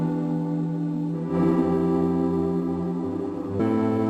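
Music run through a tube compressor with saturation, dense sustained harmonic tones that thicken and shift chords midway, steady level throughout with no voices.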